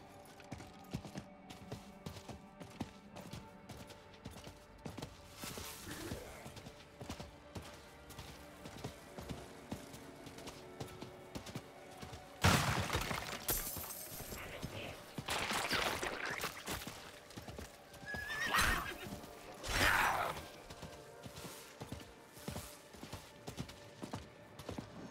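Horse in Diablo IV ridden through the game world, with faint clip-clop hooves and mechanical sounds low in a dense game soundscape, and louder bursts of action near the end; a neigh is not clearly picked out.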